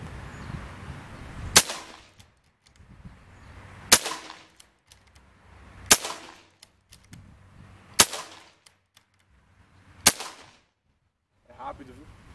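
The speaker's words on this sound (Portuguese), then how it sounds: "Jean, tiro daqui, dá um joinha, Jean." Five sharp .22 air rifle shots ring out at regular intervals of about two seconds, each a crisp crack with a short ringing tail, with faint background noise between.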